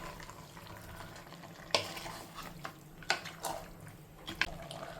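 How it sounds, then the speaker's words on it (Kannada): Chicken masala stirred in a pan with a spoon, giving quiet wet scraping and sizzling with a few sharp clinks against the pan, close and low in level, no talking. "ಈಗ ಚೆನ್ನಾಗಿ ಮಿಕ್ಸ್ ಮಾಡ್ಕೊಳ್ಳೋಣ"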